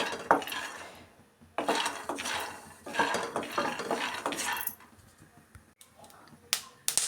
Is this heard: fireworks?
no